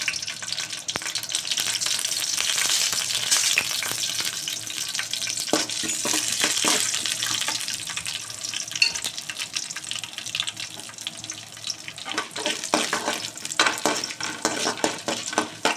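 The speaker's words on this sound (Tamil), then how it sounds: "எண்ணெயை ஊற்றிட்டு வச்சுருக்கோம்ல கடலப்பருப்பு உளுத்தம் பருப்பு இதை போட்டுக்கிறோம். இதை போட்டு லைட்டாக செவரணும்." Chana dal and urad dal fry in oil in a pan, giving a dense continuous sizzle with stirring scrapes and rustles, fairly close and steady with a few louder bursts.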